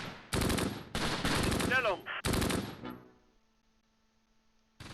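MG42 machine gun fire from the WWII video game Close Combat, with the 1944 Normandy battle near Caen: three loud, close, sustained bursts of rapid gunfire over about three seconds, trailing off into a faint echo and near-silence.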